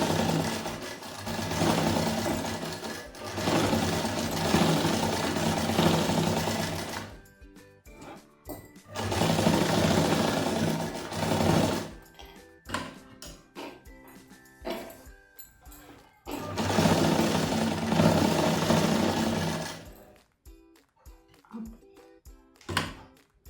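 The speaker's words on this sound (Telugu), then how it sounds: "ఎలాస్టిక్ పట్టే అంత ప్లేస్ ఉంచుకొని కుట్టు వేసుకోవాలి." A sewing machine stitches a three-quarter frock in three sustained bursts of close, steady whirring. Quieter gaps between the bursts carry small handling clicks and knocks.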